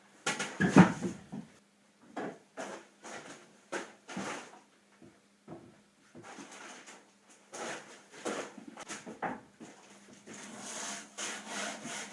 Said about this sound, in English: we're going to touch up the edges with some sandpaper